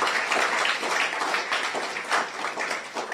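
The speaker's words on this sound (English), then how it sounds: "I think our speaker deserves another round of applause." Audience applause at a Constitution Day public lecture, a steady dense wash of clapping from a hall crowd that holds at an even level for the full few seconds with no voices on top.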